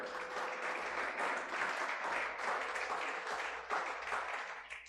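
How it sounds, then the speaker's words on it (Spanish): Steady applause from a church congregation fills the whole stretch, dense clapping at an even level without letting up. "Den un aplauso al Señor"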